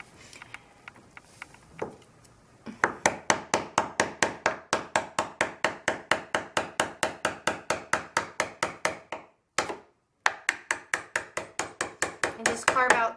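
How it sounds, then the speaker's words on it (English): A big wood chisel is struck again and again while carving into a wooden door frame, producing a steady run of sharp close knocks at a fast even rhythm, briefly stopping and then resuming. "now I'm going to take the big wood chisel and have a go at it."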